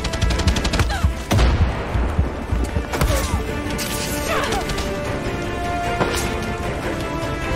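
Dense gunfire in the Far Cry 6 video game: repeated shots, sharp cracks and bursts pile up loud and continuous, with heavy impacts near the 1 and 3 second marks, and a voice talks faintly beneath.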